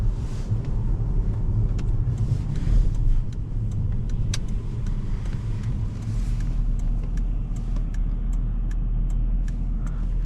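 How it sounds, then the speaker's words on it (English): A 2005 Jaguar XJR with a supercharged 4.8 V8 drives along, its engine giving a steady low rumble and drone from inside the cabin, with faint ticks and clicks on top and no talk. "what it does have is that character, the supercharged V8 engine"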